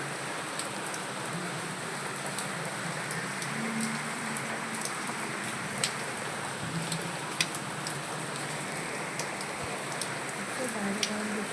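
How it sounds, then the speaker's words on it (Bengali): Steady rain falls outdoors in wind, a dense continuous hiss with scattered louder drops and patters throughout, close and even in level, with no voices. "দেখো বাইরে কিরকম বৃষ্টি পড়ছে, হাওয়া দিচ্ছে আর বৃষ্টি পড়ছে।"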